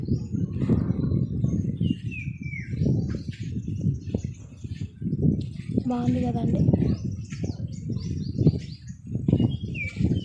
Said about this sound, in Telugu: ఇక్కడైతే నెమళ్ళు అడుస్తున్నాయి కోయిళ్ళు అడుస్తూ ఉన్నాయి